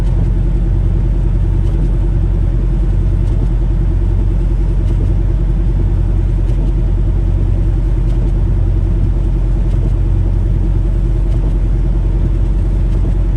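Car driving slowly on a rain-soaked asphalt road downhill, throttle barely pressed: a steady, loud low rumble of engine and tyres on wet pavement, continuous and unchanging, with no voices.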